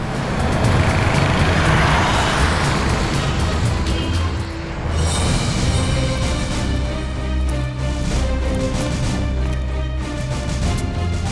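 Steady, close engine and road rumble of a car being driven, a dense drone that holds for the whole stretch with slight swells and no voices.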